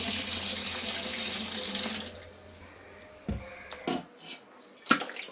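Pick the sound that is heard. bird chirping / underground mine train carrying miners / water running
water running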